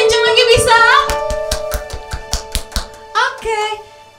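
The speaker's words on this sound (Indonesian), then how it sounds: "Kasih tepuk tangan boleh gak sih buat Tuhan Yesus?" Hands clap in a run of sharp, separate slaps during a children's online church service, roughly a dozen claps with uneven spacing, over background music and a voice.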